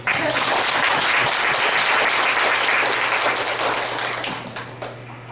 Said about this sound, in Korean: 박수 소리가 굉장히 적습니다.